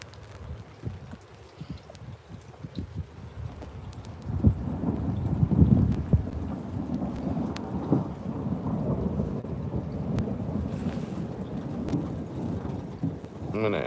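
Severe thunderstorm rolling in, with low thunder rumbling in long swells that build and peak midway, over steady rain and light wind, heard outdoors without any talking.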